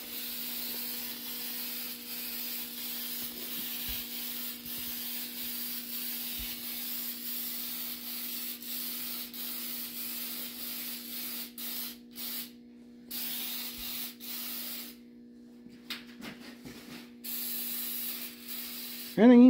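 Sealant sprays from a can into a leaking crack, a faint steady hiss running for many seconds over a low constant hum, with a few brief gaps near the end.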